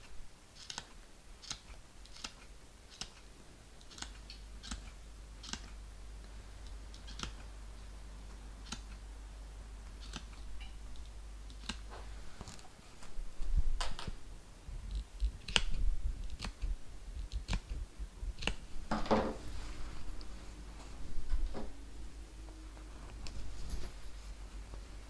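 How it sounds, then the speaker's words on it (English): Scissors snipping into fabric seam allowances around the corners of a handbag being sewn, a quiet run of short, crisp clicks spaced a second or so apart, with some soft handling rustle in between. "now I'm just going to snip into my seam allowances so that I can ease it around these corners"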